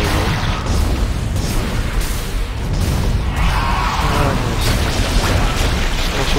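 Fireball shots blast and explode in the horror shooter Dead Space 2, a dense, loud roar of booms and bursts running continuously with a few sharper hits.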